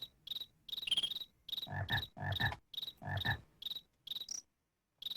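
A frog in the 1988 DOS adventure game King's Quest 4 croaks in a steady series of short, chirpy bursts, about a dozen in five seconds, with a few deeper, fuller croaks in the middle and nobody talking.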